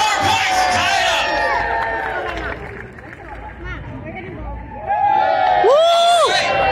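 Spectators at an axe throwing contest at a state fair harvest event cheer and shout, with loud crowd noise and excited voices that rise again toward the end.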